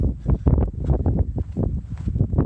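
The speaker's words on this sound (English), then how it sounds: "It's too windy out here." Gusty wind on the Pacific Crest Trail buffets the microphone, a loud, rough, low rumble that surges unevenly. No voices are heard.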